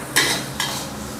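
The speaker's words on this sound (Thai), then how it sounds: "เดี๋ยวเราจะผัดจนไข่เริ่มเซตตัวสักนิดนึงก่อนนะครับ" Egg and pork are stir-fried in a hot pan: two quick, loud scraping strokes of a spatula over a close, hissing sizzle.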